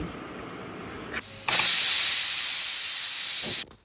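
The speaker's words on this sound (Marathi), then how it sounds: "आई पलीकडच्या साईडला भाजीला फोडणी टाकतायत" Spices for a vegetable curry hit hot oil with a sudden loud hissing sizzle that starts partway in, holds steady for about two seconds and then cuts off, alone with no talk.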